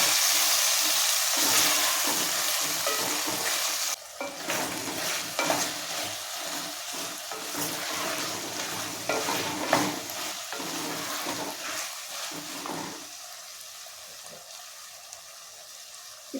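Pumpkin pieces frying with ginger garlic paste are stirred in a hot pan, giving continuous loud sizzling with scraping strokes that ease slightly toward the end, close up with no voices.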